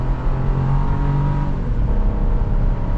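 A 2024 Chevrolet Trax 2RS crossover with a three-cylinder engine pulls away and accelerates, its steady engine drone and road rumble heard from inside the cabin, loud and continuous with no talking.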